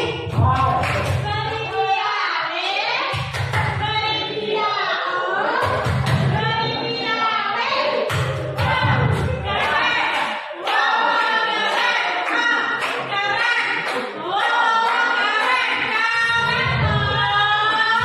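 A group of teachers and staff at an Indonesian elementary school claps in a patterned rhythm, bursts of hand claps alternating with chanted voices and talk throughout.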